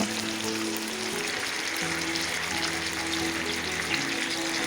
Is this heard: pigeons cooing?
no